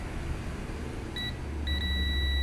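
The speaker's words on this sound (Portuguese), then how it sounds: "tem que fazer o bip pra mim, ó." Two short electronic beeps from a multimeter continuity test on a jumper, a brief one followed by a longer sustained tone, over a quiet hiss.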